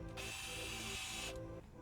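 A robot servo gearbox, fitted to a lifter kit for a combat robot, is back-driven and lets out a steady, close mechanical whir that holds for over a second before cutting off.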